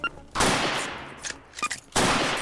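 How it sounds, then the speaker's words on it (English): A flashbang grenade in Unturned detonates with a sharp loud bang, followed by scattered smaller pops and then a second powerful blast, all close and harsh. "Flashbang."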